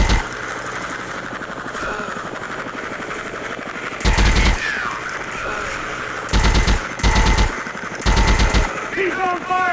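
Machine gun fire in the mobile shooter Commando Strike, loud bursts of rapid automatic shots in several clusters separated by steady background din and game sounds.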